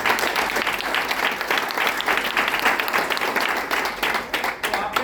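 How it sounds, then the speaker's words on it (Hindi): Steady, dense audience applause at a business event, loud and continuous for about five seconds, with many hands clapping at once and no clear voices over it. "आप सबके लिए जोरदार मैं ताली बजाऊंगा।"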